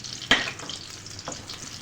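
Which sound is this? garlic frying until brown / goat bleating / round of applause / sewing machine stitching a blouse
garlic frying until brown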